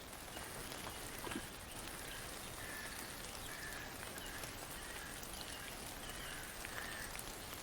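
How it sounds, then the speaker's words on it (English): Gentle rain drums steadily on cloth, a soft continuous patter with faint scattered drops, quiet and even throughout with no voices. "the sound of the gentle drumming of rain on cloth like a metronome to your sleep"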